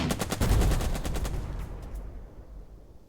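A rapid burst of machine-gun fire from a hilltop unit in the Burden of Command strategy game, loud repeated shots that stop after about a second and a half, leaving a fading rumble.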